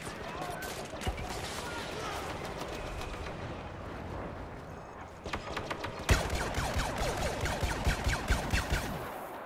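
Blaster gunfire in a Star Wars Battlefront match, dense and continuous, with rapid repeated shots that grow sharper and more rhythmic toward the end. A voice talks over it.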